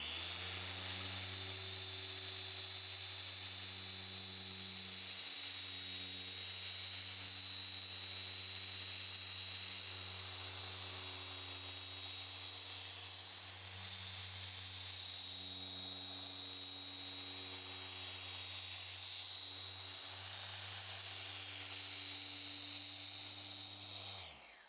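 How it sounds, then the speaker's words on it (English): A Porter Cable 7424XP dual-action polisher runs steadily on car paint, a continuous motor hum with a high whine that holds at an even level throughout, with no talking. "As I'm going to start polishing, I'm going to be placing my left hand on the top of the machine"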